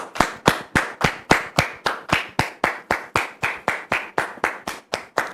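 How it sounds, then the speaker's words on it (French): A welcoming round of applause for a guest, though it comes across as one pair of hands clapping steadily and close, about three to four claps per second throughout. "On la reçoit sous vos applaudissements."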